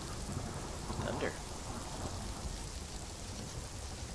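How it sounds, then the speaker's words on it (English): Steady rain pours in a stormy scene in the video game Arma 3, a dense, constant hiss, while a low rumble of thunder rolls beneath it. "There's the thunder."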